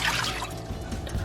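Water poured into a pan holding meat, a short close splashing trickle with a brief sizzle-like hiss, loud and alone without talk.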